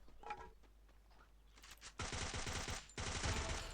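Gunfire in a mobile shooter game, two loud dense bursts of rapid automatic shots following quieter scattered shots.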